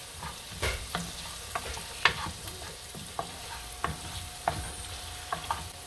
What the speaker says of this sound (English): we're just burning the curry in this